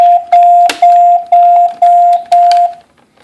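A 2GIG GC2 Go Control security panel sounds its keypad tamper alarm: loud, steady electronic beeps repeating in even pulses, with faint clicking and handling noise from the panel.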